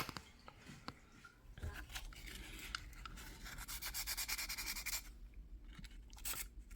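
Sanding gunk off the carbon fiber part of a Rlaarlo AMX12 RC car: close, continuous gritty rubbing strokes in a steady back-and-forth rhythm, fading near the end.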